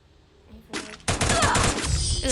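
A dense, rattling burst of automatic gunfire in the Free Fire mobile shooter erupts after a quieter lead-in and keeps up steadily until the end, loud and close.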